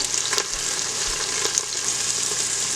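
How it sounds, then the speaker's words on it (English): Pork chop chunks sauté in an Instant Pot with a loud, constant, hissing sizzle and a few faint scrapes and taps of a utensil. "So you're just going to saute these about 1 to 2 minutes on each side."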